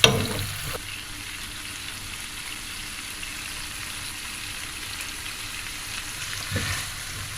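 Cherry tomatoes, escarole and black olives sizzle steadily in a pan, with a soft continuous fry, a brief clatter at the start and a small stir near the end, no voices.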